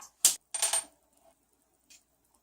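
Two M3 30 mm screws handled during a Prusa i3 Mk2s 3D printer build: sharp metallic clinks as the small screws tap and rattle together, a quick cluster followed by a faint later tick.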